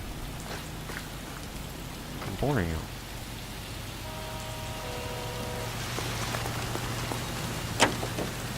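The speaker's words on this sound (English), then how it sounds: "It's raining." Steady rain falls on surfaces in the L.A. Noire game world, a constant hiss with occasional louder drops, while characters talk over it and a brief car-like hum passes.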